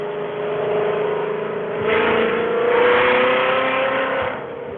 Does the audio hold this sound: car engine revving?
yes